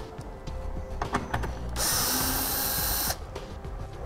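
A power drill backs out the taillight screws on a 2015 Chevrolet Equinox: a few clicks and handling noises, then a loud whirring run of about a second and a half, close by.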